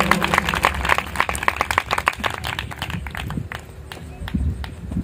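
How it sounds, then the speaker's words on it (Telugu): A church congregation claps loudly during a Telugu sermon, with dense, continuous hand claps at close range that gradually thin out toward the end. "ఒకసారి గట్టిగా చప్పట్లు కొట్టండి."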